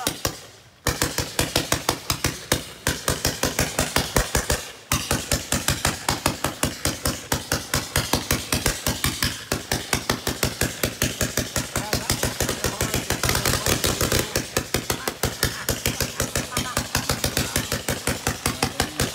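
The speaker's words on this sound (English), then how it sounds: "Not recommended when you're firing a 156 shotter." 156-shot fireworks cake firing on the Fourth of July, a rapid, relentless string of loud sharp bangs that continues almost without pause, with one brief break near the start.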